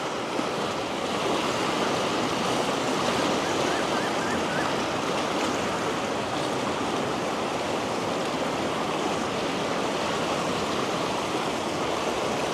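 Steady, loud rush of water flowing over a road at the Vattuvakal bridge in Sri Lanka, a continuous broadband roar with no pauses and no voices, close by.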